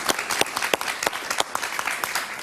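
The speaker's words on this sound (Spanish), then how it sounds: "un aplauso para ella." Studio audience applause on a Spanish-language talk show, brisk loud clapping from many people with distinct sharp claps standing out, continuous and close with no speech.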